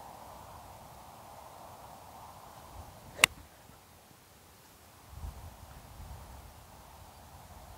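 Wind gusts and buffets outdoors, rising and falling in muffled rushes, with a sharp crack partway through.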